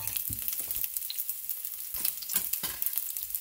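Onions sizzle as they are sautéed in a pan, with a steady frying hiss broken by bursts of scraping and stirring at close range.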